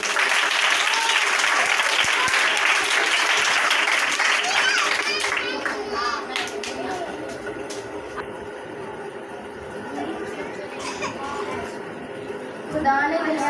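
Group of children at a bible camp kids service clapping along, a dense burst of applause at the start that thins into scattered claps with a voice speaking over later.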